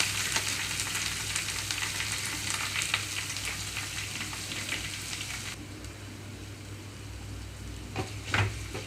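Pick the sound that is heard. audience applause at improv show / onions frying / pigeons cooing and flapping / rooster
onions frying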